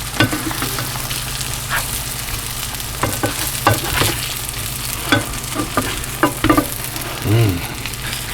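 Slices of liverwurst fry in a pan with a steady close sizzle, punctuated by occasional scraping and clinking from stirring or turning, no voices heard.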